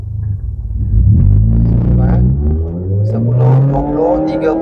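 A Honda CR-Z S+ accelerating hard from 0 to 100 km/h, heard from inside the cabin as a loud engine rumble whose pitch rises steadily through the gears, with brief dips at each shift.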